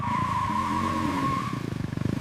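Fast motorcycle in a video game races along with a high engine whine that drops away, followed by rapid pulsing engine beats near the end.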